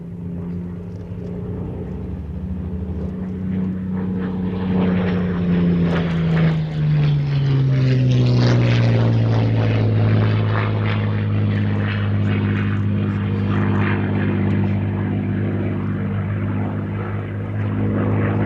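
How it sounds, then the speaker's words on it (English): A Spitfire fighter, painted with black and white D-Day invasion stripes, flies past at the Sywell airshow, its propeller engine droning loudly and steadily as it passes near, the pitch sliding downward as it goes by. "the great Spitfire, flown by Ben Cox"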